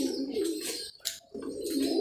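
Pet pigeons coo in low, throaty rolling phrases, close by, with a brief pause midway before the cooing resumes; no one speaks.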